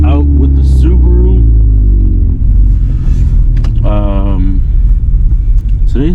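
A Subaru car drives through falling snow on a winter road with a steady, loud low engine and road rumble throughout. Someone talks over it.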